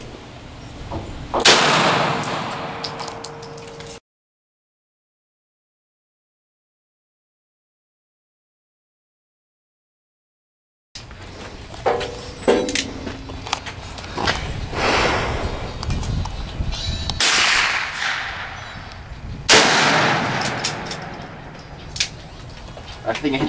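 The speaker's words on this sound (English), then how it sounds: "Can I shoot one more after you?" Sharp gunshots crack during outdoor target practice in Arkansas, several separate loud reports spaced apart with a gap of silence between, and people talk between the shots.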